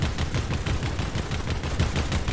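Dense, fast gunfire from the video game Fortnite during a competitive FNCS match, a continuous rattle of rapid shots at steady loudness with no talk over it.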